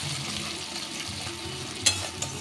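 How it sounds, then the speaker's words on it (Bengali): Sliced onions frying in butter in a pan, a steady, close sizzle with a light clink of stirring near the end. "পেঁয়াজটা আমি ভেজে নেব।"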